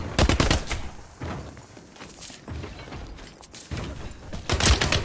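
Rapid automatic gunfire from a gun in The Cycle: Frontier empties a full magazine in several loud, close bursts separated by short pauses.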